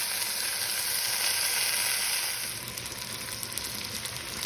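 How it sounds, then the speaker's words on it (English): A pot roast sears in a Dutch oven, giving off a constant close, bright sizzle that eases slightly midway and carries on with small popping crackles. "my roast is searing on both sides"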